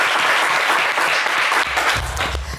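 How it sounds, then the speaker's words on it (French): Loud, steady applause from a TV game show studio audience fills the space from start to finish, a dense wash of clapping without pause. "Allez, on vous applaudit également."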